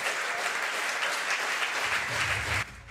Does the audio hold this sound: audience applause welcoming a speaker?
yes